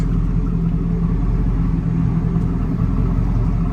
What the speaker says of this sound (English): It's got a nicely done stainless steel dual exhaust.